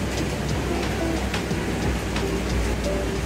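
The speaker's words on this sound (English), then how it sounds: "And now it is raining and super cold." Steady, dense rain falls on a cold, wet day on a road trip near Kununurra in Western Australia, a constant close hiss with scattered drops and no voices.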